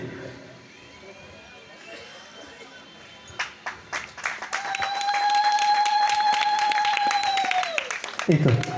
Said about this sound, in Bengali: সবাই একটু উলুধ্বনি হাততালি দিয়ে বরণ করে নেবেন